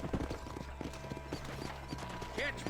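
A horse gallops in the Red Dead Redemption video game, rapid hoof clip-clops under game dialogue and ambience, fairly quiet, with a brief whinny-like cry near the end.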